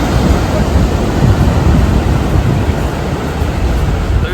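Broadband surf at Melacon Beach in Mazatlan, a steady loud wash of breaking waves with constant rushing noise and no clear gaps, heard up close without voices.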